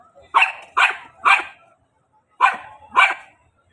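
A dog barks five times, three quick barks, a short pause, then two more, fairly close and clear against quiet surroundings.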